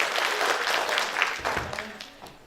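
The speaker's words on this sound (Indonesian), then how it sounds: "tepuk tangan untuk kita semua" An audience at a family planning training event claps together. The applause is lively and fairly close, with scattered individual claps standing out. It gradually fades, and a few voices murmur beneath it.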